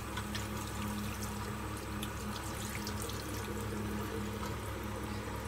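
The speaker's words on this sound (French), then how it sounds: "Donc là je le rince avec de l'eau, mon petit gant que j'ai lavé." Steady running water streams close by as a small washcloth is rinsed, with a continuous splashing hiss and no pauses throughout.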